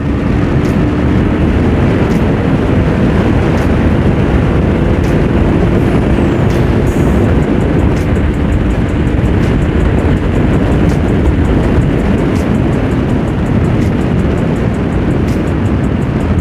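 A Bajaj NS200 and a Royal Enfield GT 650 roar side by side in a drag race. The engine and wind noise is loud, dense and continuous, with no pauses across the whole stretch.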